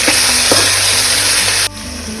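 Sliced onions with rock salt frying in a pan, a loud close sizzle of hot oil that drops suddenly to a quieter fry partway through.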